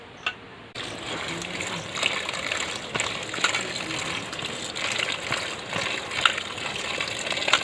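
Cut teasel gourd and potatoes being rinsed under a running tap, a steady gush of water splashing continuously and fairly close, with brief quiet at the start.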